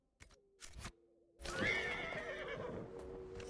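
Horse in the video game Dragon Age: Inquisition, with a few hoof clops followed by a loud, long shrill neigh that trails off over rumbling movement, close and clear.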